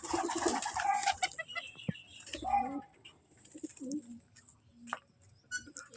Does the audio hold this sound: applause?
no